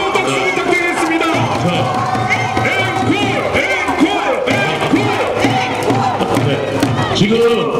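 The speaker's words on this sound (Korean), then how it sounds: "다시 한번 뜨거운 박수 부탁드리겠습니다." A large crowd at a Korean patriotic prayer rally in Uijeongbu, Gyeonggi, cheers and shouts loudly and continuously, with clapping and whoops blending into a dense roar throughout.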